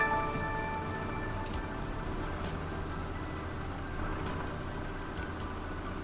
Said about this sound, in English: There's the full rain.